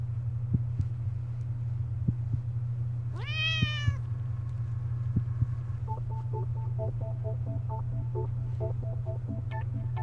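A cat gives one rising, drawn-out meow in The Cat Lady, a grim black-and-white adventure video game, over a low steady hum, followed by faint beeping electronic tones.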